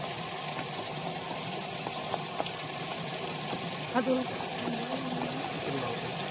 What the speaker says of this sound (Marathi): बघा आत्ताच आपण पाणी सोडतोय या ड्रीपद्वारे